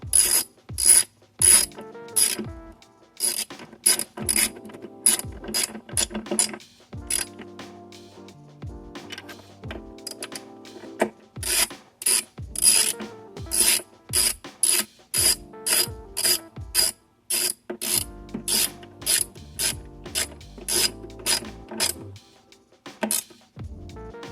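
A ratchet tightens throttle body nuts on a Chrysler 300, clicking in rapid bursts of sharp pawl ticks separated by short pauses, close and loud with no talking.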